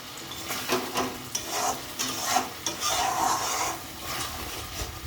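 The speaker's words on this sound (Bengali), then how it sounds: "এরপরে ভালো করে কষিয়ে নেব।" Papda fish masala with Kashmiri chilli and brinjal frying in a home pan: repeated scraping stirs over a steady close sizzle, with uneven strokes throughout.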